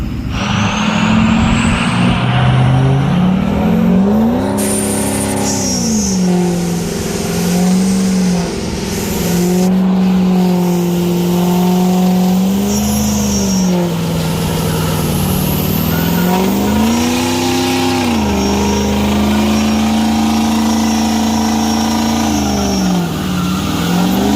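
A vehicle with stock tires goes mudding, its engine droning and revving up and down steadily and loudly close by, with splashy, gritty noise over the top throughout.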